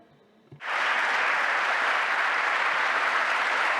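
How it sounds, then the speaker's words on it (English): A large audience at a political event bursts into sudden, steady applause that starts abruptly after a brief pause and holds at a loud, even level. "there's a lot of applause going on."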